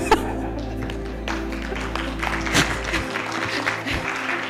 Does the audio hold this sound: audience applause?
yes